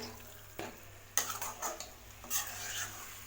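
Masala for a chicken gravy is sautéed in a pan, heard as quiet intermittent scrapes and clinks of stirring over a faint low sizzle, with a few louder strokes and no voices.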